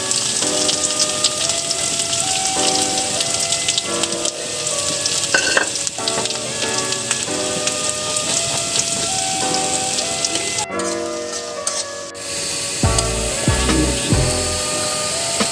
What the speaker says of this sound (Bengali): এখন আমরা পেঁয়াজটা দিয়ে নেব।